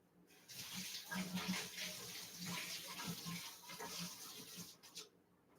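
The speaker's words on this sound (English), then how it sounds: "so let's just rinse this off" Tap water runs over a spoon being rinsed in a kitchen sink, a soft continuous splashing stream that starts, holds for several seconds and cuts off, close and fairly quiet with no voices.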